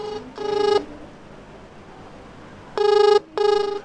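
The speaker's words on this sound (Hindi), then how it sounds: "मेरा फोन जो है वो रिंगिंग दिखा रहा है" A phone rings for an incoming Truecaller Wi-Fi call made without a SIM card: a loud electronic tone in three bursts, one short ring, a pause, then two rings close together.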